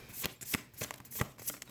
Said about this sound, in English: I'm going to throw down a couple more cards